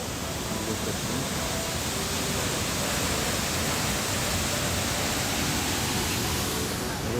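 Heavy water from a waterfall in Chhattisgarh, swollen by rain and overflowing, pours down in a loud, steady broadband roar with no pauses.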